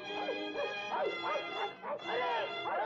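A dog barks and yips repeatedly in a 1964 Indian film scene, loud and close, with overlapping voices and music running under the calls.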